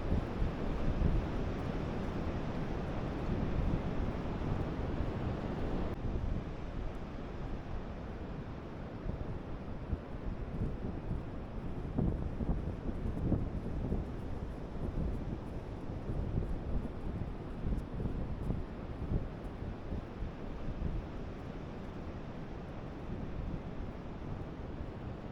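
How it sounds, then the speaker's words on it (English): Strong, steady wind buffets the microphone on Renown beach on the Causeway Coast of Northern Ireland, with sand blowing under an overcast sky; a continuous loud low roar, unbroken and without talk, persists throughout. "It's very windy here. Lots of sand blowing about."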